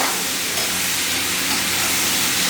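Pork ribs seasoned with salt stir-fry in a hot wok, giving a loud, steady sizzle and hiss that runs unbroken throughout.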